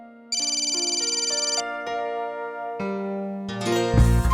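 A phone ringtone plays a repeating melodic tune of bright tones, then a fuller second phrase swells louder; the call rings on unanswered with no voices.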